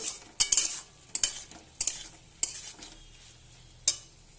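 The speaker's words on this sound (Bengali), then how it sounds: "এবার ভালোভাবে আমি নেড়ে নেব, শুকনো করে নেব।" Sliced potatoes frying in a pan are stirred firmly, sharp scraping clatters of the utensil arriving in irregular bursts over a soft sizzle, close and alone.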